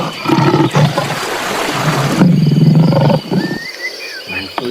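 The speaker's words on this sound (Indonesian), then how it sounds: "hewan singa" A toy lion gives a loud, close roar lasting a few seconds, rough and growling, followed by quieter electronic tones and chirps near the end.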